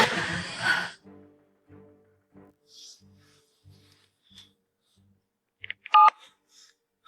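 Telephone keypad tones sound during a TV drama scene: a short cluster of bright dialing beeps arrives late in an otherwise quiet stretch, after a soft breathy rustle at the start.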